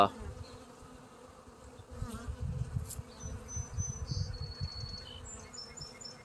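A low, steady buzz of many honey bees close by around a hive, fairly quiet and continuous, with faint higher tones drifting in and out.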